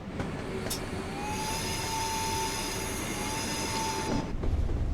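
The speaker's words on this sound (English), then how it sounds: "I'll just let the train coast up to 70." ÖBB 1020 Krokodil electric locomotive coasting on the Mittenwaldbahn in a train-simulator game, a steady rolling rumble with a long rising-then-falling motor whine and sustained high tones, ending with a louder rattling rush.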